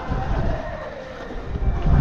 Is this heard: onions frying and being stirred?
no